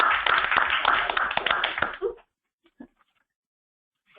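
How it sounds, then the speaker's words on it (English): A short burst of clapping on a webinar conference call, a couple of seconds of hands clapping and tapping, then it cuts off into near silence with one small tap. "So that's a round of applause."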